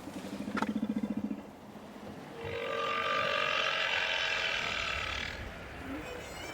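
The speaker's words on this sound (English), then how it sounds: "Today, the sea is calm enough to test the hydrophone that will put us on the whale's trail." Whale calls heard underwater through a hydrophone in a calm Antarctic sea: a pulsed, grunting burst followed by a long, droning moan over steady water hiss.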